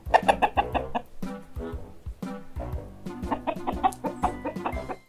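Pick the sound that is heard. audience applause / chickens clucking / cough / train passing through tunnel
chickens clucking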